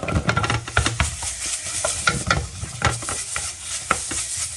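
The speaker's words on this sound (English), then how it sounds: "I'm gonna try to bring out all the oils that from the garlic and from the shallots" Garlic and shallots frying in oil for khao poon sizzle steadily up close, with quick, repeated scrapes and stirs of a utensil in the pan and no voices.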